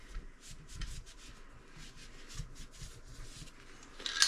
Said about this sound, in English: We're just going to wipe it down.